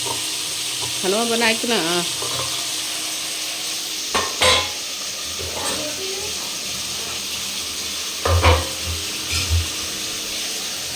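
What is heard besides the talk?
potato and cauliflower frying together in a pan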